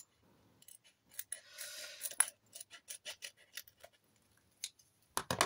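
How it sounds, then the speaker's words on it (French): Scissors snipping paper for a collage in a notebook, a quiet close-up series of irregular crisp cuts and rustles, with a few louder snips at the end. "Je vais essayer de couper ça un peu plus droit"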